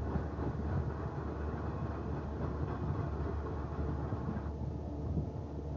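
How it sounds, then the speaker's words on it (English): Train running through a deep underground rail tunnel such as the Gotthard Base Tunnel in Switzerland, a steady loud rumble with low roar and faint rattling that continues evenly throughout. "And that was a train I heard."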